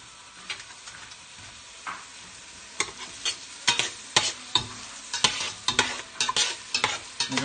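Garlic and onions browning in a pan for an Italian dish, a steady close sizzle broken by a quickening run of sharp spatula scrapes and stirring knocks that grow louder toward the end.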